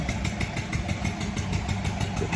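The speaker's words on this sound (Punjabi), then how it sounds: "ਹੁਣ ਚੱਲਦਾ ਇੰਜਨ ਆਪਣਾ" A farm engine runs steadily to pump water for a fodder crop, its close, loud, even throbbing putter continuing without a break.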